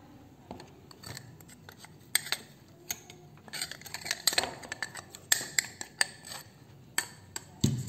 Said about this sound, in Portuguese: Então, vou ficar aqui misturando